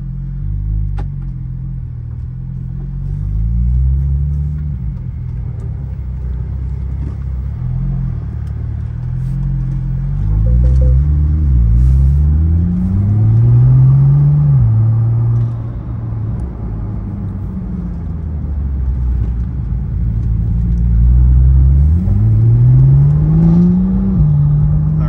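A car driven around the block, with a steady engine drone from inside the cabin and several rising revs as it accelerates through smooth gear changes, loud and continuous with no talk.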